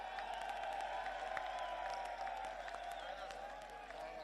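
A large crowd at an outdoor political rally in Daska, Pakistan applauds and cheers in sustained, dense clapping, with scattered whoops, under a distant amplified hum.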